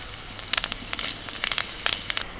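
Dry red chillies, bay leaf and five-spice crackle and sizzle in hot oil for tempering, with a soft steady hiss broken by quick sharp pops.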